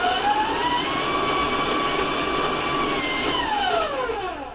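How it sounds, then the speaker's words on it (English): An electric mixer whirs steadily at high speed as an egg is beaten into cake batter for a coconut skillet cake, a continuous motor whine that dips slightly in pitch near the end. "I just want to blend it and beat it till it's smooth"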